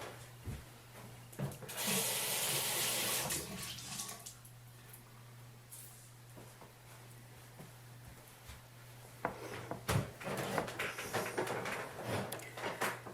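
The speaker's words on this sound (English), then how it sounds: "I'm going to wet the sponge" A bathroom tap gushes briefly to wet a makeup sponge, a loud hissing spray lasting about a second and a half, surrounded by soft handling clatter and a steady low hum.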